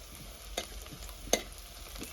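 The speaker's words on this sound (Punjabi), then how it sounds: "ਪਿਆਜ਼ ਆਪਣੇ ਹਲਕੇ ਹਲਕੇ ਜੇ ਬਰਾਉਣ ਲੱਗ ਗਏ ਪਰ ਥੋੜੀ ਦੇਰ ਤੱਕ ਆਪਾਂ ਹੋਰ ਪਕਾਵਾਂਗੇ" Onions browning and being stirred in a pan on a stove while cooking chili paneer, a faint steady sizzle with two sharp scrapes of the spoon, no talk.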